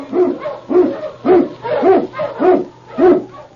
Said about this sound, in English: On King! On you huskies